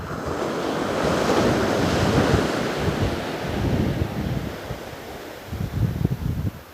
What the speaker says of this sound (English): bit of a wind coming up.